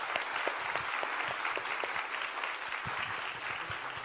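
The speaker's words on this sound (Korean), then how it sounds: "이제 우리 뜨거운 박수로 우리 두 분을 환영해 주시기 바랍니다." A church congregation at a Sunday evening service claps warmly to welcome two guest pastors, a dense, sustained round of applause from many hands in a large room with no voices over it.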